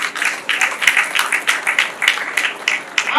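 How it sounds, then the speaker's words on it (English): A small audience at a talk claps, the scattered, uneven claps staying fairly close and steady for a few seconds with no voices over them. "Can we give her a round of applause?"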